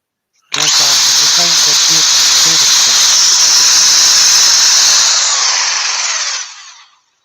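A loud, steady high-pitched whine and hiss of sanding on a wood lathe, running for several seconds, starting abruptly and fading out at the end.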